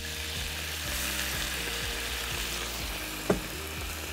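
White wine deglazing a pan of seared salmon, a loud continuous sizzle close by with a faint tonal hum beneath and one sharp clack partway through.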